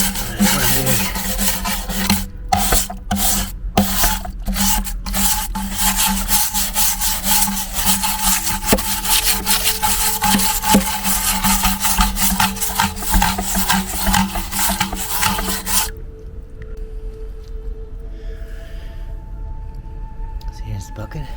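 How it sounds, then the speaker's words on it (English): A steel brush scrubs wine residue off an old wooden barrel in repeated rasping strokes, loud and close, for most of the stretch before it stops and a quieter room tone remains. "You can still see all the wine residue here, which we'll have to clean off. I've got a steel brush."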